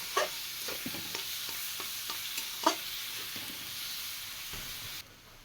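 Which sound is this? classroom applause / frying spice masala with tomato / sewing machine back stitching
frying spice masala with tomato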